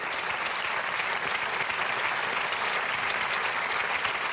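A theatre audience applauds at the close of Jean-Luc Lemoine's 2009 stand-up comedy show, a dense, steady wash of many hands clapping at full volume for the whole stretch, with no break or voice on top.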